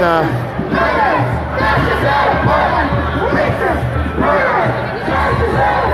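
A large protest crowd at a Portland free speech rally chants and shouts continuously, a loud dense roar of many voices rising and falling in rhythmic waves outdoors.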